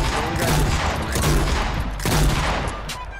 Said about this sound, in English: This is me shooting.